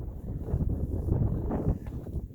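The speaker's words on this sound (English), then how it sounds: "it's very windy today" Steady low wind rumbles and buffets against the microphone, a continuous blustery roar with no one speaking.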